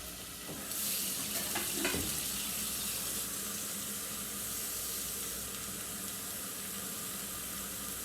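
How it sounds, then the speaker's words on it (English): Water runs steadily from a tap into a pot of chicken being prepared for chicken and dumplings, a continuous close splashing rush after a few brief knocks at the start. "I'm gonna add some water to it now."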